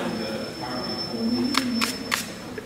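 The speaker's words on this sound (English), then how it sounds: "I'm going to come back with my spray" Three quick hissing sprays from a spray bottle misting a watercolour painting of flowers, sharp bursts close to the microphone after a stretch of quiet room tone with a faint steady whine.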